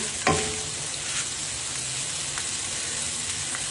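Chicken fried rice sizzling in a wok as spices are stirred in, a steady close hiss and crackle with a sharp scrape of the utensil near the start, continuous and fairly loud with no voices.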